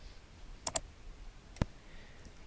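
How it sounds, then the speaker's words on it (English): Computer mouse clicks in a quiet room: a quick double click followed a moment later by a single sharper click, close and distinct over a soft background hiss. "I make my choice and then click Next."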